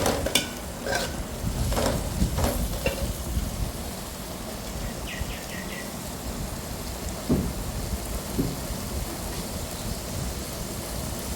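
Curd sautéing in a pan for biryani gives a steady close sizzling hiss, with a few sharp scrapes and clicks early on and soft stirring knocks later, no voices.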